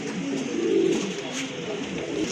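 Pigeons coo softly in a cage, a low throaty murmur rising briefly amid steady background noise, close by and with no talking.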